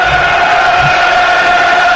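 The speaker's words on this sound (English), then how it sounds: "The Millwall crowd looking to get behind their team now" Millwall supporters at a home football match against Nottingham Forest, a steady, dense roar of crowd noise with sustained chanting tones held throughout, distant and continuous with no single voice standing out.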